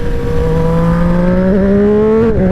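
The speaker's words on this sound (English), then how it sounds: "Let's listen to the old auto blipper." A Yamaha R6 motorcycle engine revving via an auto blipper with the exhaust baffle removed, a steady rising drone that climbs gradually in pitch, with a brief wobble near the end, loud and close.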